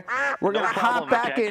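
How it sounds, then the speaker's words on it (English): Duck quack sound effect, a run of loud nasal quacks filling the clip with barely a pause, blended with a voice speaking over it. "That's the sound of the duck."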